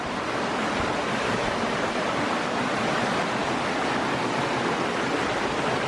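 A noisy forest stream rushes in a dense, continuous roar, loud and close, with no break or change and no voices over it.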